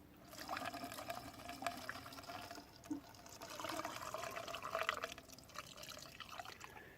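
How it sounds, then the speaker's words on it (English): Windshield washer fluid pours steadily through a funnel into a 2003-2009 Toyota 4Runner's reservoir, a continuous gurgling trickle with occasional drips, fairly close and moderately loud throughout. "we can now take our washer fluid and go ahead and pour it on in there."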